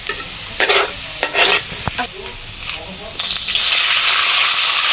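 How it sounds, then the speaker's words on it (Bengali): Dried chili, bay leaf, onion and panch phoron spices are fried in oil in a wok, with repeated spatula scrapes over a sizzle that swells into a louder, steady hiss toward the end. "আমার মা কড়াইতে তেল দিয়ে শুকনো মরিচ, তেজপাতা, পেঁয়াজ, পাঁচফোড়ন এগুলো দিয়ে মশলা কষাচ্ছিল"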